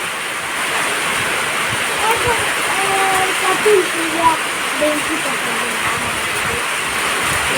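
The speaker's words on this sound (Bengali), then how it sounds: "বৃষ্টি চলে, বৃষ্টির পানি আসতেছে" Afternoon rain pours down in a steady, dense wash of noise, with a voice talking faintly over it.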